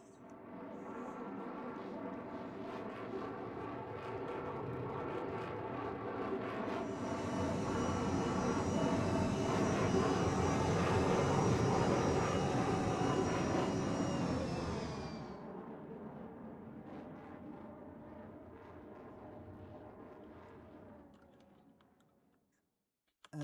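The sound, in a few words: Avro Vulcan bomber flying at an air show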